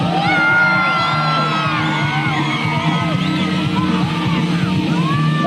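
A large crowd screams, yells and whoops loudly and continuously at a 1997 GT summer tour bike stunt show, with children's shrieks and whistling cheers overlapping throughout.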